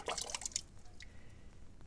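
Glaze drips and patters off a ceramic piece after pouring, a quick cluster of small close wet drops in the first half second, then a few fainter trickles in a quiet room.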